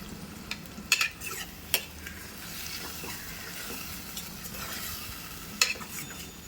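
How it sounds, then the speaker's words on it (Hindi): Masala frying and being stirred in a pan while cooking shrimp, a steady soft sizzle broken by several sharp scrapes and clinks of the spoon against the pan, with no talking. "मसाला हम अच्छे से भुनने देंगे।"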